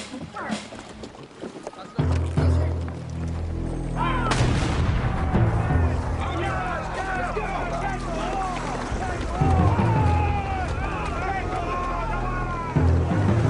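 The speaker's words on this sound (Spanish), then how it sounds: "un disparo retumbó desde el navío almirante de Scott" Cannon shot booming from Scott's flagship as the invasion begins, a loud sudden boom followed by sustained rumbling battle and sea ambience with crashing low impacts, under music and noise throughout.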